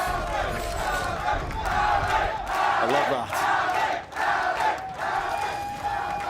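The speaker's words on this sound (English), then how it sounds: "The crowd getting behind one of our youngest players here as well." A large esports arena crowd at a Valorant VCT Americas Kickoff match between NRG and FURIA roars and chants in loud surging waves, with a commentator talking over the noise.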